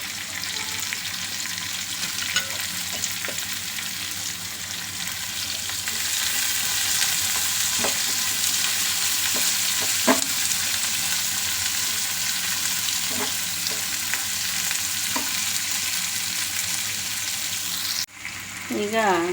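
Onions and curry leaves fry in a pan for an okra stir fry, giving a steady, loud sizzle that holds throughout, with a few faint clinks of stirring and a brief disturbance near the end.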